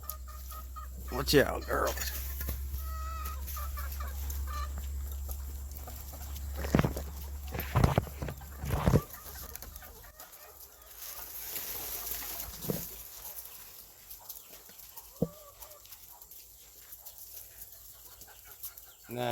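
Chickens and baby chicks cluck and peep in scattered bursts, near and fairly clear, with a person speaking briefly among them.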